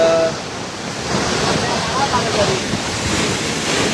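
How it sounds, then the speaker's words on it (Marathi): A waterfall's rushing water roars steadily nearby, mixed with wind buffeting the microphone and indistinct voices in the background. "2 मिनटं अंतरावर फक्त असणारा हा KP वॉटरफॉल."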